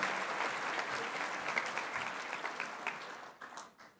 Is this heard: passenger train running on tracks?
no